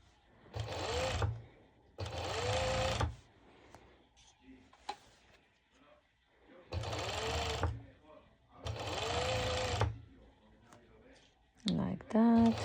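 A serger runs in four separate bursts while a sporty ruffled top is sewn, each run loud and steady for about a second with quieter handling noises and faint clicks between them.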